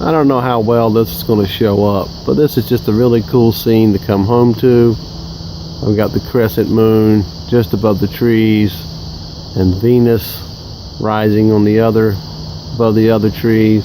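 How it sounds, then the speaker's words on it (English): Frogs sing in a chorus of rhythmic trilling pulses on a warm February night outdoors under trees, steady and fairly close, with someone talking over them throughout. "all the frogs are singing because it was such a beautiful day."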